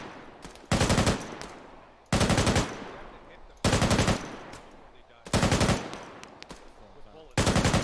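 Automatic weapon fire in a squad-based shooter game: five long, loud bursts of rapid gunshots roughly every one and a half seconds, separated by decaying echoes and quieter background battle noise.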